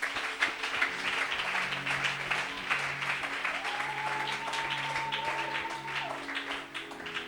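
A church congregation applauds and cheers in praise of the Lord, a steady wash of clapping that carries on throughout, with a sustained musical tone and low hum underneath.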